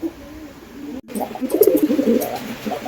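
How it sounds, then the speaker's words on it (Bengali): Black-legged shatin pigeons, a fancy breed, coo softly in a soft series of low throaty notes after a brief gap, close by and without talk. "black leg শাটিম hundred percent active কবুতর"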